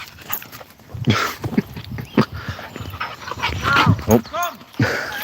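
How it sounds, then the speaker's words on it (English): A dog approaches on a morning outdoor walk, with close panting, sniffing and pattering footsteps in bursts as it dashes through. A person's voice is faintly heard alongside. "I think we're about to be visited by a dog."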